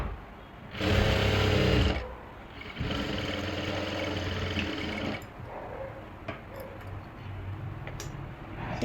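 A sewing machine stitching women's trouser fabric, running in bursts: one loud fast whirring run, then a longer steadier stretch and quieter intermittent stitching, heard close up with no talking.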